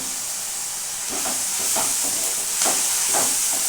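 Spice masala frying for mutton keema kaleji, with steady broadband sizzling hiss throughout and several soft periodic scraping strokes of a spatula stirring the pan, close and continuous, no voices.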